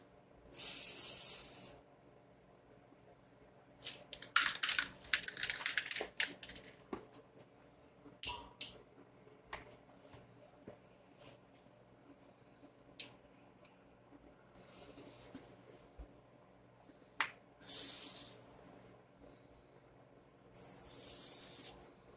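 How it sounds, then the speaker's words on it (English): Several short bursts of grease spray hissing from an aerosol can during Coleman BT200X maintenance, close by, with pauses and faint handling noises between them. "Spray this with a bit of grease so I'll have it open."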